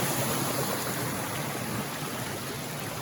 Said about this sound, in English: Water's running pretty good.